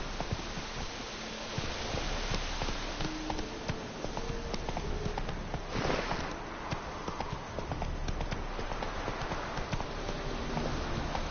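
Hooves of Roach, a horse in The Witcher 3, clip-clopping in a steady galloping rhythm on the ground, close and continuous with faint background ambience.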